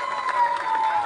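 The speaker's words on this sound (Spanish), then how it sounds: "El aplauso para Mario Gastaldi" A crowd applauds at the Fiesta provincial del Salame folk festival, a brief, dense wash of clapping, with a steady tone ringing through it.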